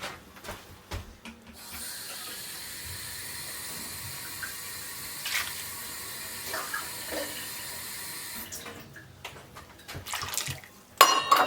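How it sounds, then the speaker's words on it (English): Water poured into a pot while making beetroot relish with brown sugar and white vinegar, a continuous splashing pour lasting several seconds, fairly close, with a few clinks before and after. "Now I'm going to add some water."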